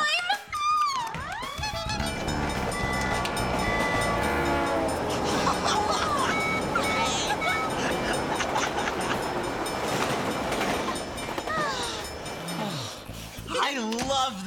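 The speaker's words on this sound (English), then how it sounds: "I love the sound of trains. So do I. The whistles make me think of faraway places and adventures." A passing train in a children's TV show sounds its whistle in long rising and falling tones over a steady rolling rumble of rail cars. The sound swells and fades across about fifteen seconds, with voices heard at moments.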